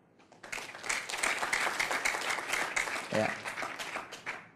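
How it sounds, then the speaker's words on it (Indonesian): A seminar audience claps at a talk on inviting people, a moderate, slightly uneven patter of hands that starts abruptly and carries on for several seconds, fairly near. "Ini tepuk tangannya berat atau karena tangannya sibuk mencatat kira-kira ini?"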